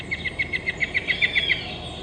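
A played recording of a black-headed antbird song: a rapid, evenly spaced series of about ten clear, high whistled notes, slightly rising in loudness, heard alone against a faint background hiss.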